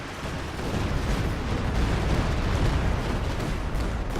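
Stuka zu Fuss rocket barrage pounding the ground in Company of Heroes 2, a dense, continuous roar of overlapping explosions at steady loudness across the whole stretch, with no voices.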